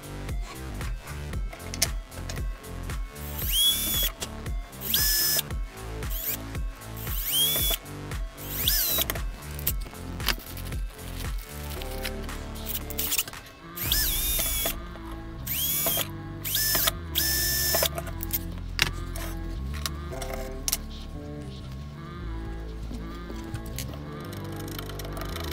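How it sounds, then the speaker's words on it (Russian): Drill boring out a mounting hole in the circuit board of a Samsung monitor under repair to fit a slightly wider transformer, heard as close, repeated short mechanical bursts and grinding that continue steadily and grow denser and noisier toward the end. "Сейчас рассверлю отверстие чуть-чуть подальше"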